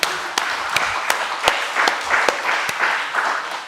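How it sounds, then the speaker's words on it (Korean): Applause from a church audience at a Friday gathering, a short burst of hand clapping with distinct individual claps, moderately close, lasting a few seconds and fading toward the end. "박수 한번 해주세요."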